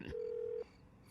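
A telephone rings on speakerphone after a number is dialled, a single fairly faint electronic ring tone lasting about half a second before cutting off into quiet line hiss.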